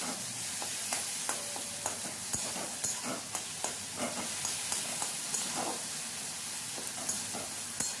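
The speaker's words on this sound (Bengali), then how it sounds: "ঢাকাটা খুলে টমেটোটাকে এইভাবে খুন্তি দিয়ে চেপে চেপে একটু ভালো করে টমেটোটাকে ম্যাশ করে দিচ্ছি" Soft, continuous sizzling of a tomato being mashed in a pan with a spatula while cooking a ridge gourd dish, with scattered scrapes and sharp taps of the spatula at irregular intervals.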